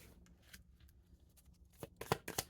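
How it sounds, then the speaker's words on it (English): Tarot cards being shuffled, with soft papery riffles and then a burst of louder, sharper card flicks near the end, heard alone without talk. "I love shuffling the cards"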